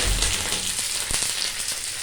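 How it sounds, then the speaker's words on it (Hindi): Tadka of spices in hot oil sizzling in a small ladle as chutney is tempered, a steady close crackling hiss with a few sharper pops. "मैं करछी से ही तड़का लगाऊंगी।"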